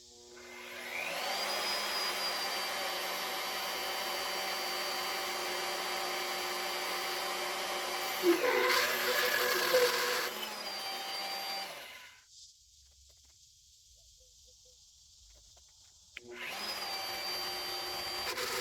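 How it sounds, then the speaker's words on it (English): An annular cutter drills into metal with cutting fluid, a loud, steady close-up whine that pauses for a few seconds before the motor spins up again. "these annular cutters are really loud"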